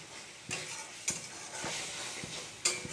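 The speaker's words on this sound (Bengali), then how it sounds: "এবার এটাকে ভালো করে কষাবো, মানে পুরো তেল এসে যাবে মশলাটা।" Ground spices (salt, turmeric, ginger, cumin, coriander and chilli) sizzling together in hot oil, a continuous close frying hiss broken by a few sharp scrapes and clicks of a stirring spoon against the pan.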